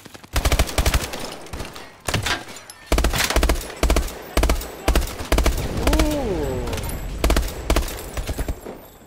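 Rapid gunfire bursts from the video game Call of Duty Advanced Warfare, loud and repeated in clustered volleys with short gaps, with a rising whine briefly cutting through near the middle.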